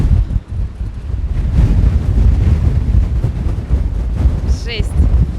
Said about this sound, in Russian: Вот такой здесь у нас на Солнцедарской ветер.